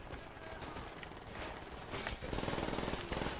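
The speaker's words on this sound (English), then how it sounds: "I don't know who's shooting me." Gunfire in Call of Duty: World at War multiplayer combat, a steady loud stream of rapid automatic shots that builds into a dense burst toward the end.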